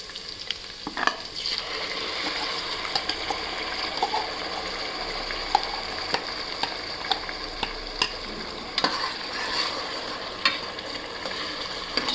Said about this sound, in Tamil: சேர்த்து ஒரு 5 to 10 மினிட்ஸ் நல்லா வதக்கிக்கலாம்